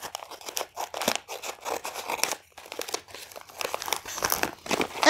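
A paper mailing folder being cut open, close crinkling and tearing bursts of paper in an irregular rhythm, with no talking.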